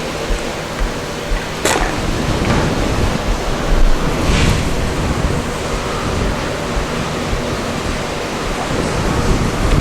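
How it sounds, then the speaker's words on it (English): Tap water runs steadily while a glass burette is washed in a chemistry lab, a continuous broadband rush with faint splashing throughout. "So you have to wash with tap water and then rinse with distilled water."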